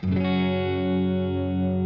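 A strummed chord rings out on a replica Gibson Greeny electric guitar through compression and reverb, one sustained sound decaying smoothly over about two seconds.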